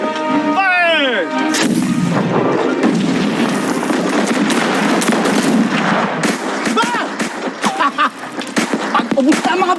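A loud, sustained volley of artillery and gunfire in a war battle scene, with dense overlapping blasts and rapid shots rolling continuously, and a brief shout near the start.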